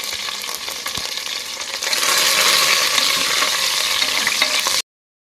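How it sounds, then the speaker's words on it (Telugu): Onions frying in a pan for Andhra-style pappu pulusu make a loud, dense sizzle that swells after a couple of seconds as they are stirred, with no talk, then the sound cuts off abruptly. "ఆనియన్ అయితే బ్రౌన్ కలర్లో వేయించుకోవాలి"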